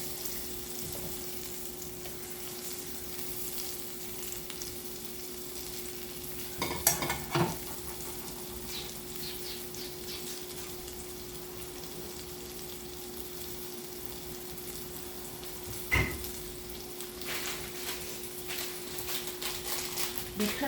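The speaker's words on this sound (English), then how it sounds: "I am browning it because I want it to cook in the sauce." Chicken browning in a pan for chicken marsala, a soft steady sizzle throughout with a few brief louder scrapes and clanks of turning the pieces.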